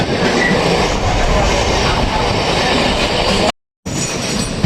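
A local commuter train rumbles loudly along the tracks near Ballygunge Junction in Kolkata, with a dense, continuous roar and wheel noise, briefly cutting out near the end.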